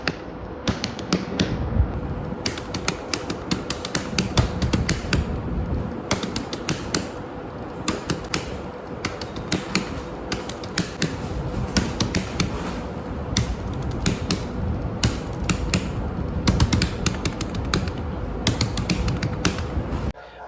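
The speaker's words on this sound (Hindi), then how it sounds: "अब मैं अपनी दिखाता हूँ आपको कीबोर्ड पे टाइपिंग की स्पीड।" Rapid, continuous clatter of keys on a computer keyboard, dense and close with no pauses for about twenty seconds, with no voices.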